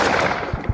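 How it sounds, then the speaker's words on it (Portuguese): Gunfire in the subway horror game Crowded Followed: a dense, loud burst of shots, with two heavier low thumps near the end. "Mais tiros?"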